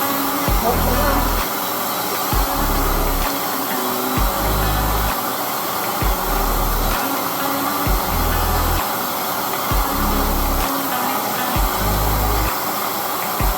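A steady hissing spray tan machine runs continuously, with low pulsing bursts repeating every second or so; a voice speaks occasionally over the noise.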